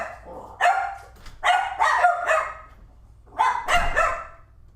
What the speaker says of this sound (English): He does bark, Bobby.